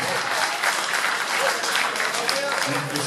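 Loud, dense applause from an audience at a political conference of the Lumana coordination in Belgium, welcoming a politician, sustained throughout with voices mixed into the clapping.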